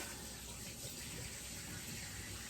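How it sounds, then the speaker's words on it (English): A garlic press being rinsed under a running kitchen tap, giving a faint, steady wash of flowing water that continues unbroken through the short stretch. "Oh, I've got to rinse this press off."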